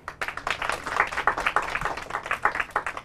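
An audience at a school event applauds for team Goa with a brief burst of many hands clapping, dense and fairly close, lasting a few seconds.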